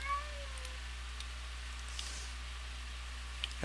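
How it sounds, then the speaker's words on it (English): Cat meowing in the Minecraft video game, a few short rising mews near the start over a steady low game hum, followed by quiet ambient noise with faint scattered clicks. "This cat's trying to get in my house."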